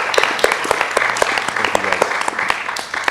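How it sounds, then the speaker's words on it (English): An audience at a Bitcoin conference panel claps steadily, a dense patter of many hands with a few sharper claps standing out. "please give a round of applause for the panel here today"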